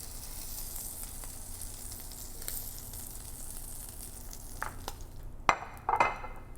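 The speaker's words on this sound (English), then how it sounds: "Now that the scallops are seared," Sea scallops sear in a hot pan with a steady close sizzle, then a few sharp clinks of utensils and pan near the end as they are lifted out.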